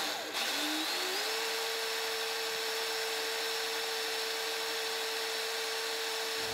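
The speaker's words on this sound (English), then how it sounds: "we got our 2 holes drilled in our angle bracket" A power drill bores holes through a metal angle bracket for a homemade fishing rod reel seat, a steady high-pitched whine that ramps up at the start and holds constant and loud throughout.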